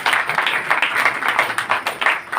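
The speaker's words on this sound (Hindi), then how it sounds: "पीछे सब लोग ताली बजाएंगे" A church congregation claps hands together loudly at a pastor's urging, a dense, fast, slightly uneven burst of many palms at once, close and continuous for a couple of seconds.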